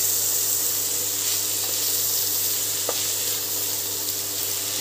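Bottle gourd and mung lentils stirred in a pan over a high flame, giving a soft, steady sizzle with a low hum behind it and one faint clink, fairly quiet and even, with no speech.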